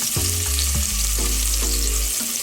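Onion drops into a hot pan for shrimp and vegetable Indomie noodles and sizzles loudly and steadily, with a low tonal hum underneath.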